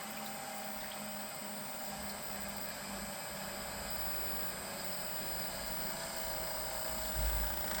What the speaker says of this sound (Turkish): Pompadan gelen bir ses yok. Bakın su atıyor.